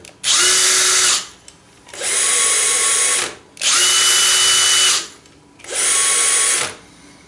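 A brushless power drill runs in four steady whirring bursts of about a second each, loud and close, separated by short pauses, with no talking.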